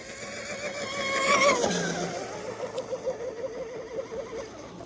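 A Proboat UL-19 RC boat motor runs at full throttle with a high, wavering whine that swells loudly, then settles into a fluttering buzz as the boat hops across the water.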